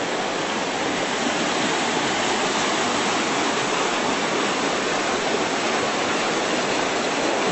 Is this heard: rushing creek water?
yes